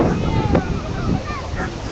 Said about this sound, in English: It's quite a windy day today, isn't it?